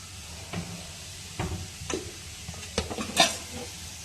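Whole cumin seeds dropped into hot oil for a Bengali papaya and soybean dish, giving a quiet, close sizzle with a few soft bursts and stirring scrapes, no speech.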